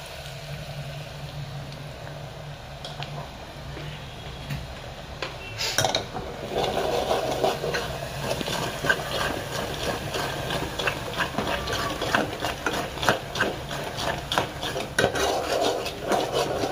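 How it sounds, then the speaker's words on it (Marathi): Homemade paste of coconut, garlic, whole coriander, turmeric and salt hits hot oil for a chicken dish; a low hum gives way to a loud, sustained sizzle with clinks of stirring. "आता आपला तेल गरम झालेला आहे. आणि आता आपण हे मसाला टाकूया, बनवलेला मसाला."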